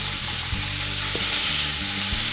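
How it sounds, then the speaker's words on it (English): Ground beef sizzles and crackles steadily in a hot frying pan, a dense continuous fry with occasional stirring bumps, close and alone. "Sizzle."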